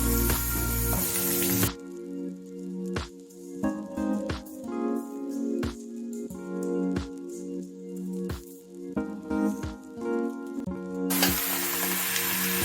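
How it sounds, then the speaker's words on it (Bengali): Shredded cabbage frying in a pan with ginger for a Saraswati Puja meal, a hissing sizzle broken by repeated sharp stirring clicks and scrapes, with a loud burst of spray-like sizzle at the start and end. "ভাজা হয়েছে, আমি এবার বাঁধাকপিটা দিয়ে দেবো।"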